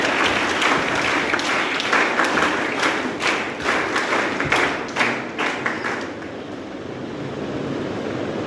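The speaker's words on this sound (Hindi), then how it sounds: "तालियों के साथ इनका स्वागत करें आप।" A school hall crowd gives a cadet sustained applause at an NCC certificate distribution ceremony, dense clapping with a few loud thumps that thins out and fades toward the end, with no voices over it.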